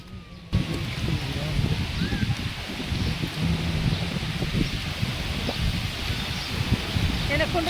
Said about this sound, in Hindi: हवा तो इतनी ज़्यादा तेज़ है कि आप एक दूसरे की आवाज़ भी ढंग से नहीं समझ पा रहा, इतनी तेज़ हवा चल रही है